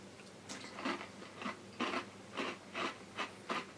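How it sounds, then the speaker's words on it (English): Close crunching of Cap'n Crunch's Crunch Berries cereal with milk, about seven crisp chewing bites in an uneven rhythm, each a short loud crackle with quiet gaps between and no talking. "it might be one of the crispiest, crunchiest cereals I've ever had"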